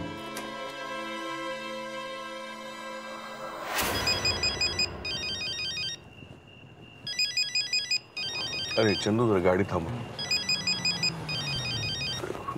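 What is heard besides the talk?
telephone ringtone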